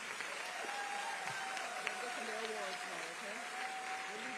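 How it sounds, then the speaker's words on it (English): Audience applauding middle school students at a community involvement awards ceremony, steady clapping throughout with faint tones and a voice or two underneath. "Let's give these students a huge round of applause."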